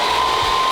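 A new hair dryer blowing with a steady, loud, close whirring rush of air and a constant motor tone throughout a very short moment.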